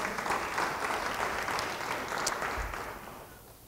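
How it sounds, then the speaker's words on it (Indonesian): A church congregation applauds steadily at a worship service, a broad wash of clapping that holds for several seconds before thinning out toward the end. "Yang percaya beri tepuk tangan bagi dia"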